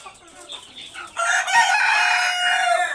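Chickens on a poultry farm murmur softly before a rooster nearby breaks into a loud, long crow that carries for nearly two seconds over the flock.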